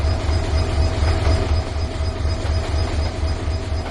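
A simulated express train in a train simulator game rumbles along steadily with a low mechanical drone and a thin tonal whine above, loud and continuous.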